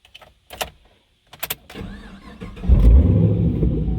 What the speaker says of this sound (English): I'm gonna go ahead and start this car up because I want y'all to hear it